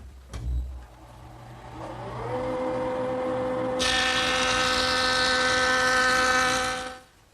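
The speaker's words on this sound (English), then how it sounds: "I'm going to make one pass over the joiner, a 32nd of an inch on each edge" A jointer planes the edge of a large wooden panel held against the fence by a magnetic featherboard, the motor spinning up to a steady whine before the cutterhead bites in with a loud, rushing cut that drops away at the end.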